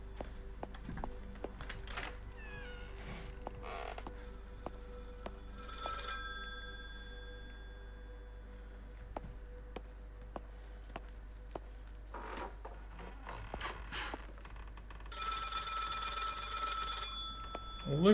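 An old telephone rings in the horror video game Maid of Sker, bursts of bell ringing recurring amid quiet eerie ambience, footsteps and faint sounds, with a louder ring near the end.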